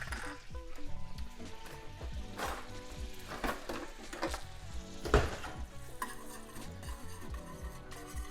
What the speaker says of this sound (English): I'm gonna add my probably half a teaspoon of garlic.